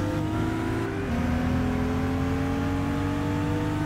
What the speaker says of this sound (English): We are slipstreaming the Porsche at the moment